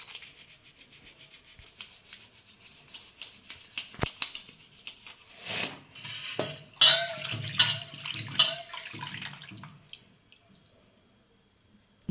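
A small five-metal (panchdhatu) devotional idol is scrubbed and rinsed with water at home, first soft rubbing, then louder splashing and dripping water in bursts, close by, with no talking.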